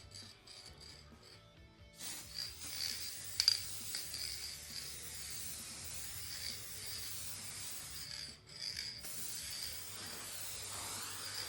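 A hissing aerosol fixative spray can bursts on at close range over a charcoal drawing on canvas and runs steadily, with a brief pause before spraying resumes, loud against a quiet basement.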